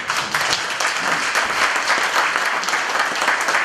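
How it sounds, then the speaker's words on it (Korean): Loud, dense applause from a lecture audience, continuous clapping at steady strength throughout without a break. "박수 한번 더 보내주시죠."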